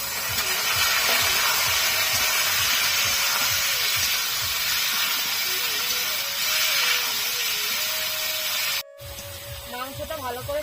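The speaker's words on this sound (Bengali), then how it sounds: "মাংসটা ভালো করে ভেজে নিয়েছি" Chicken pieces sizzling in a hot pan with chopped tomato, cooked for a green jackfruit curry, give a steady, loud hiss that runs unbroken, then cuts off abruptly near the end before a quieter stretch.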